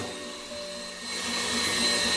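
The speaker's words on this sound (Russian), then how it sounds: "Желатин застыл, поставьте на секунд 10 микроволновку." A microwave oven heating set gelatin for a cheesecake, a steady electric hum with a faint whine that swells slightly louder over two seconds.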